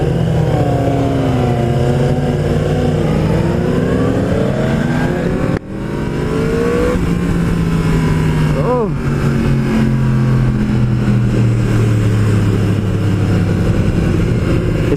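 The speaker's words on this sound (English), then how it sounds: "sounds really good with that M4 exhaust" A Yamaha R1M sport motorcycle fitted with an M4 aftermarket exhaust drones along a mountain road, its engine pitch rising and falling through long pulls, with a sharp gear-shift dip midway, under continuous wind rush and a rider talking.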